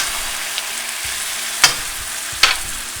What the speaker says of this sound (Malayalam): ഈ സവോളയും ഇഞ്ചിയും വെളുത്തുള്ളിയും നമുക്ക് 1 മിനിറ്റ് ഒന്ന് സോട്ട് ചെയ്തെടുക്കാം, കുക്ക് ചെയ്തെടുക്കുക.